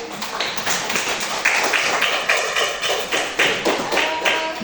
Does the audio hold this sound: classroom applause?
yes